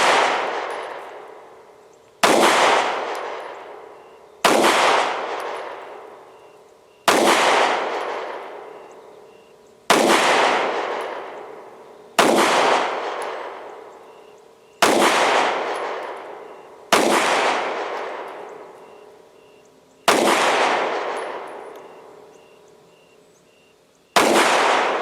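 A Kel Tec P-15 pistol fires Norma range and training ammunition in ten evenly spaced, loud, sharp shots, each followed by a long ringing decay, with no talk between them.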